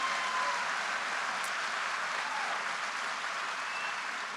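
Audience at a political rally for Kamala Harris breaks into applause, a steady wash of distant clapping from a large crowd with no speech over it.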